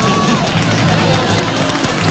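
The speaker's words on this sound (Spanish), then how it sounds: "un aplauso para allá" A dense crowd applauds and cheers continuously at an outdoor neighborhood festival in La Pobla, loud and close, a steady wash of clapping and shouts.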